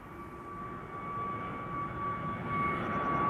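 An easyJet Airbus A320neo departs Amsterdam Schiphol bound for London Luton, a distant, fairly faint steady jet engine roar with a sustained whine, heard alone.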